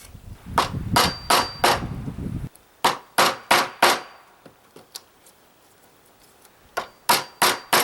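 Hammer striking wood to knock out a divot for a bolt, sharp close blows in quick bursts of three or four with short pauses, ringing slightly over a quiet background.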